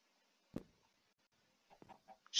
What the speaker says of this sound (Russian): Они курицу в бочке держали